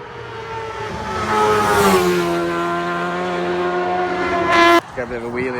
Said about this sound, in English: Bike comes all in a little bit unsettled into it.